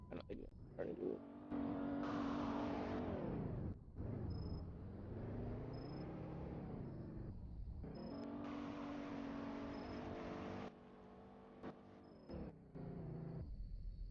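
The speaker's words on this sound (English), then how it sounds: "I mean, this is a V8 truck." A V8 truck engine in a video game revs repeatedly, rising and falling in pitch through several long pulls with brief drops between them, loud and close.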